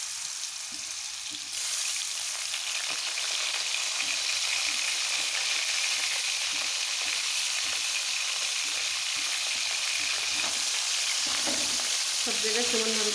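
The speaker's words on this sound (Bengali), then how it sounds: "তেল গরম হয়ে গিয়েছে, এখন মাছগুলো দিয়ে দেবো" Taki fish sizzles in hot oil as it goes into the pan, a loud continuous crackling fry that swells after the first moment and keeps on steadily, with faint stirring clatter near the end.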